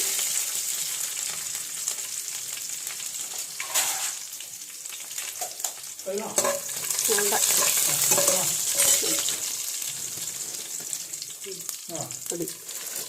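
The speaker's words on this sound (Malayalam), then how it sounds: "രണ്ട് മൂന്ന് ഉഴുന്നിടണം കടുക് വറക്കണതിൻ്റെ കൂടെ" Mustard seeds and urad dal fry in hot oil for a Kerala sadya sambar tempering, giving a steady crackling sizzle with stirring throughout and some voices in the middle and later part.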